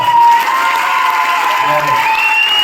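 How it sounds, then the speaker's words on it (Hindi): Strong applause mixed with cheers and whoops from a crowd at a motivational seminar, continuous and loud across the whole stretch, with some shouting voices rising over the clapping. "मैंने तालियां बोला या जबरदस्त तालियां बोला?"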